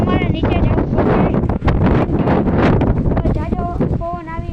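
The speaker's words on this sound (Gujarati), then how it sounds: "ઝાઝો પવન આવી રહ્યો છે, ધૂળ પણ બહુ જ ઉડી રહી છે." A strong dust-storm wind buffets the microphone with a heavy, continuous low roar, close and loud, while someone talks over it throughout.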